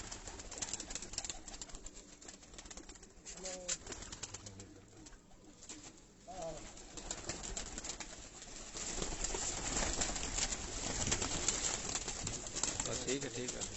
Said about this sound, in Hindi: उस्ताद असलम भट्ट ऑफ नशहरा विरकां उन्हां दे ब्रीडर कबूतरां तुहानू शो करा रहे हैं